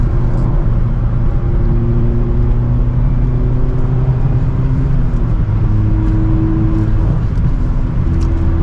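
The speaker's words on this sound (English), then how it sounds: "So for a 4-cylinder, it still has a good sound to it." A Mazda MX-5 Miata's four-cylinder engine hums in a steady, loud drone while driving, with gentle shifts in pitch and no talk over it.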